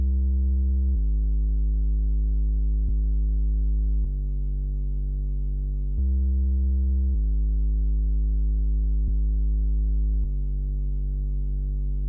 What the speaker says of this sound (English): we got ourselves an instance of Purity, and this is for the bass line